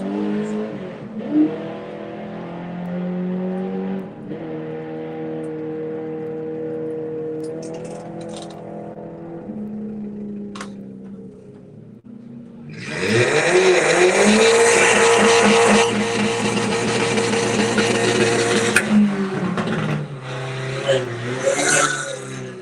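An Audi TT at a drag strip idles and revs with a low engine drone, then erupts into a loud full-throttle run for several seconds before dropping back, with faint voices in the background.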